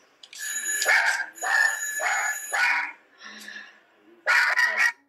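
A female dog barks and vocalizes in several loud, close, drawn-out honking yelps, grouped in bursts with short gaps between them.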